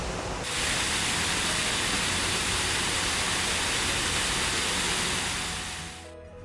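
A waterfall in Yunnan Garden, Singapore, gives a constant, loud, broadband rush of falling water that holds steady before fading slightly at the end, with no voices.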